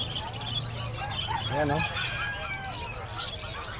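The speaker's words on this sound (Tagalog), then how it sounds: "Ayan po mga ibon." Caged birds chirp and tweet in scattered bursts at a busy pet market. The chirps sit under steady crowd noise, and someone speaks over them.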